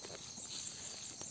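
A horse walking up close, its hooves giving a soft, faint clip-clop over a steady outdoor background hiss, with a few light steps spread across a short moment.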